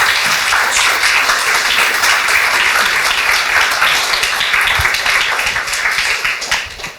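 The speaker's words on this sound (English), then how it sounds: "But please give her a warm applause for this wonderful conversation first." A conference audience gives warm applause after an onstage conversation, with full, close, steady clapping from many hands that stays strong and then thins and fades over the last second or so.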